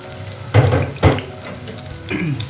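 A medium sliced onion goes into lightly heated oil, making two quick loud bursts of sizzling splash close by that settle into a softer fry with a faint clatter at the end.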